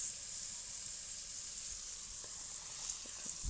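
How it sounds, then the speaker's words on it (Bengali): Spices for a fish curry with cauliflower, potato and beans fry in a pan, giving a steady, moderately loud hiss of sizzling oil with a few faint clinks. "এই যে এখন মশলা কষিয়ে নিচ্ছি মাছের তরকারি রান্না করব"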